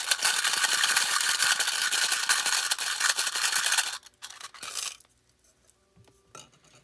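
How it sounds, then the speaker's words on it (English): Mini dice shaken hard inside a dice cup, a dense continuous clatter for about four seconds, then a few scattered rattles and clicks that die away to near silence. "Here's a cup with mini dice."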